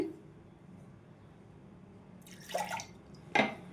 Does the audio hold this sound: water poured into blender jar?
yes